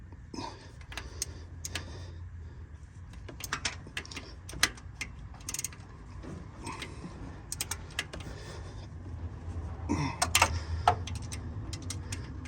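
A ratchet tightening bolts on a mechanical fuel pump of a GMC Jimmy, with quick clicking runs and pauses, close up, and someone speaking briefly.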